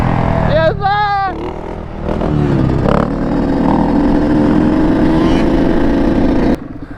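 A two-stroke 250 dirt bike engine revs and idles with a raspy buzzing note at a stunt lot, close and loud, while people talk over it.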